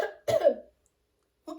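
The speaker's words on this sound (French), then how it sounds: "Si tu veux tousser," Two short, close coughs, a rough one followed by a deeper, longer bark, then a brief third cough starting after a pause, in a quiet room.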